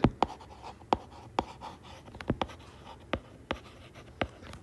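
Equations written by hand, with a series of crisp pen or pencil strokes in quick irregular bursts, close and fairly quiet, with no voice over them.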